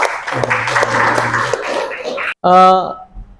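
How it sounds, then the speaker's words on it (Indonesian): Students in a classroom clap for group 4, a short burst of applause mixed with chatter and a voice, ending abruptly before a brief tonal sound and a quiet tail. "Oke, tepuk tangan untuk kelompok 4."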